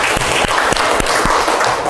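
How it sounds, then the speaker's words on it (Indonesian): Students in a mathematics classroom clap for a classmate, a short, busy round of applause with a few sharp, loud claps standing out near the listener. "Beri tepuk tangan untuk temannya."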